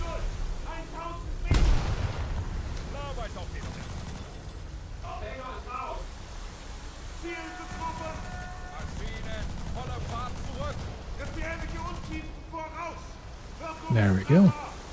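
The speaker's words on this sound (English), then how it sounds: "that arty strike was really well timed" Artillery strike explosions in a naval combat video game with boats, landing as a few loud booming blasts near the start and end, heard under ongoing talk and game sounds.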